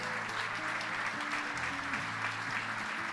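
An audience applauds veterans and the fallen at a commemorative coin ceremony, continuous even clapping while a soft musical tone sustains underneath throughout.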